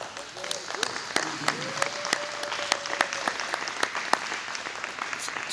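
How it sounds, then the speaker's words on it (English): A room full of people at a men's breakfast claps for a speaker in a steady, sustained round of applause, with sharp individual claps standing out and a few voices calling out underneath. "I just want to give a big round of applause for Brother Omar."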